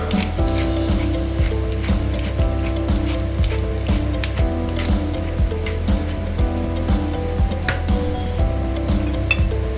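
Mung beans sautéing in a pan with squash and bitter gourd, a steady dense sizzle and crackle with small pops and stirring scrapes, close up and unbroken, with no talk.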